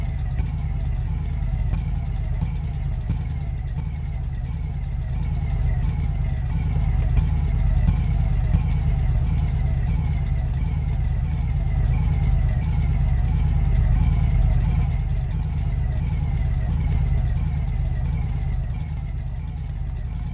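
Steady low rumble of a game car engine idling with no exhaust fitted, running continuously at close range and swelling slightly in level midway before settling back.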